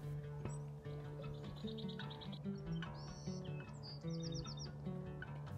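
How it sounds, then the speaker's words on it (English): Bewick's wrens calling outdoors, a series of bright chirps and trilled song phrases repeating over several seconds, moderately close, with other soft bird notes in the background and no speech. "if you listen, I'm pretty positive these are Buick's wrens."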